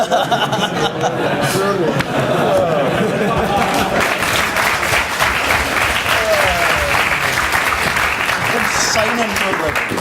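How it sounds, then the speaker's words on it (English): Sustained loud applause from a debating society audience at a Scottish independence debate, dense clapping with some crowd chatter mixed in, continuing steadily throughout. "You are clapping."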